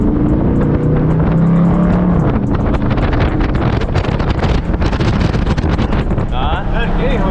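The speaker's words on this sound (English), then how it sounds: "My car is running all right. I am gonna have to go a little fast though." A Dodge Charger 392 Scat Pack driven fast, its engine and road noise droning under wind buffeting with rising bursts, while people talk inside the car.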